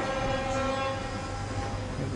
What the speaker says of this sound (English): There's a train going through, or just went through.